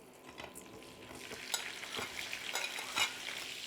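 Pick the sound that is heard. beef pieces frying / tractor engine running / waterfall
beef pieces frying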